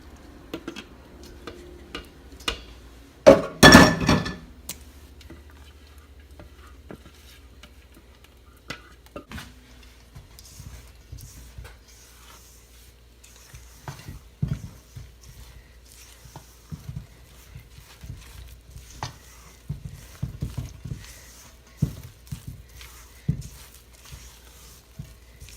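A spoon stirs keto cornbread batter in a bowl with soft, irregular scraping and tapping, quiet and close, after one louder clatter near the start.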